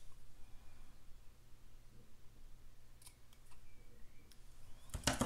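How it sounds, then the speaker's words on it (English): Scissors snip through a sticker sheet to cut it in two, giving a few crisp, close cuts near the end over a quiet room hum, with light ticks and clicks just before. "This might have to be cut into two."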